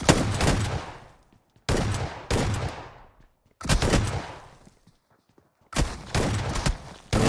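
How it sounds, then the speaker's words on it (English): Shotgun blasts in a PUBG Mobile battle royale match, four loud booming shots spaced about a second and a half apart, each ringing out into a decaying tail, with no voices over them. "This is a battle of the shotguns."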